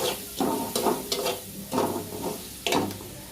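Turmeric and hand-ground chili frying in a wok, a close, steady sizzle with several rhythmic scraping stirs of the spatula, no speech.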